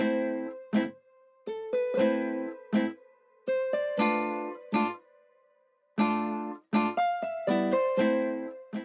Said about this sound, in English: just simple guitar strummed chords with this top line.